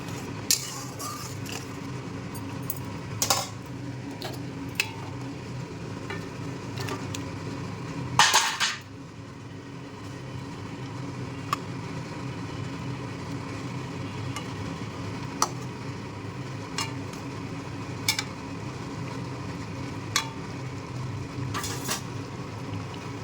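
Pointed gourd frying in oil in a pan while being stirred: a steady close sizzle with scattered sharp utensil clicks and scrapes against the pan, and a brief louder clatter midway.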